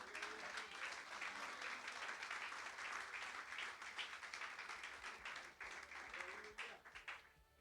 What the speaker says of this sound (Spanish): Si lo va a aplaudir, hágalo con fuerza.